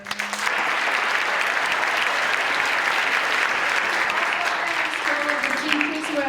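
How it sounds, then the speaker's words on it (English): Loud, dense applause fills a room at a National Junior Honor Society ceremony, beginning almost at once and holding steady for several seconds, with faint voices rising near the end. "So a round of applause."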